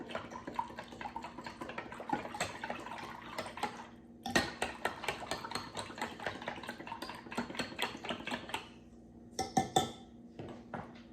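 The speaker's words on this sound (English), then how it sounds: "a hand mixer beater, so I'm just going to whisk this in" A hand mixer beater used as a whisk clatters and ticks rapidly against a pot on a stove while a plant-based sauce is stirred, a busy metallic patter with a few short breaks.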